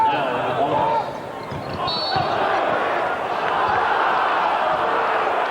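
Basketball arena crowd at a 1998-99 UIC vs Illinois State college game reacting to a referee's call late in the game, a dense sustained roar with shoe squeaks and bounces, under steady commentator talk.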